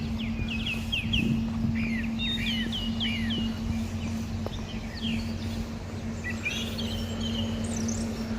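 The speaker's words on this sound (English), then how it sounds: "Even in the dreariness, the birds sound amazing." Several birds sing and chirp in quick repeated phrases against a steady low hum and soft outdoor background.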